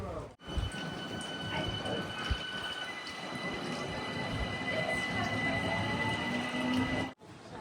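A train at a small village railway station in Switzerland, a steady rumbling roar with faint metallic whines and squeals running throughout, moderately loud with faint voices underneath.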